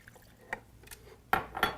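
Water is poured into a pressure cooker over a seasoned pork shoulder resting on a rack: short splashing, dripping bursts, with two louder pours near the end, close and clear with no talking.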